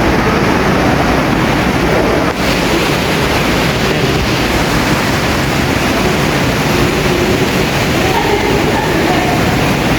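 Cold ocean surf at Muriwai Beach near Auckland, New Zealand, roars as a steady, loud wash of breaking waves, constant throughout with no pauses.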